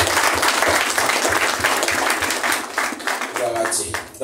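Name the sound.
congregation applauding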